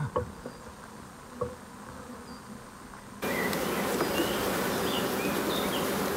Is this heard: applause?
no